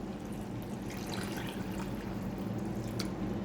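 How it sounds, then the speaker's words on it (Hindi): Water from a glass poured into a pot of chicken curry (tari wala chicken) after the browning step, a faint, steady splashing pour that runs without break and with no talking. "4 से 5 मिनट भुनाई करने के बाद अब हम यहाँ पर ऐड करेंगे पानी,"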